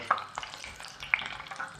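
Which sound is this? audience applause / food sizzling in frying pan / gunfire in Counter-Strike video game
food sizzling in frying pan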